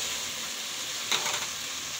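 Noodles sauté in a hot pan with a soft, steady sizzle and a brief louder stir or toss near the middle, close and unaccompanied by speech.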